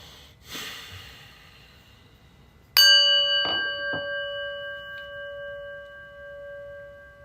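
A soft breath is followed by a single clear strike of a prayer bell, its bright tone ringing on and slowly fading, with a couple of faint knocks.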